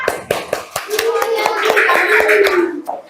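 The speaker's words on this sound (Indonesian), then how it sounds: "Tepuk tangan buat semuanya." Students in a classroom clap their hands for classmates who scored 100, a short burst of sharp, uneven claps close by, with voices chattering over it and a spoken word at the end.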